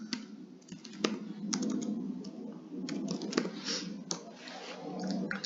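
Keys clatter on a computer keyboard as text is typed into an input field, a steady run of close, crisp clicks with a few louder strokes and no talking.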